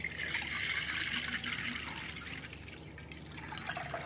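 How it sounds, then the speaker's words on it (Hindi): A litre of water pours steadily into a cooking pot being readied for steaming momos, a continuous close splashing trickle that eases slightly toward the end, with no talking. "मैंने ये एक पतीली ले ली है और मैं अब इसमें 1 लीटर वाटर"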